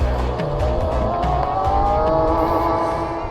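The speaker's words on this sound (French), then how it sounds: "un son très caractéristique du moteur électrique, sorte de son très continu." Electric race car motor driving with a continuous whine, steady and loud throughout, with tire and road noise under it.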